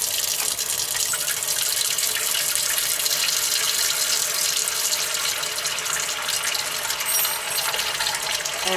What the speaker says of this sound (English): start filling your tray with water. So we can just use normal plain cold water.